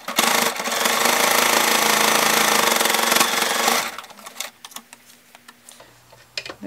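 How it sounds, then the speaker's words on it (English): Close, loud sewing machine running a second line of stitching along a seam on a fabric rice heating pad, a steady rapid clatter for about four seconds before stopping, followed by faint handling ticks. "So I'm going to just sew a second line of stitching right next to the first for security."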